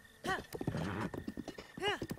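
Horses in The Legend of Zelda: Breath of the Wild, with a clear whinny near the start and another near the end, separated by clip-clopping hooves; the sounds are loud and close.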